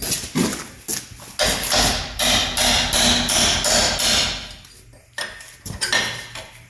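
Repeated metallic hammer blows ring out against a hard metal part of a 1971 Chevy pickup, a fast run of clanging strikes with brief pauses, close and loud.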